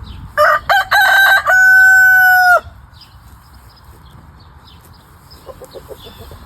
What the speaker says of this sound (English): Every time he jumps up on that fence, he has to crow.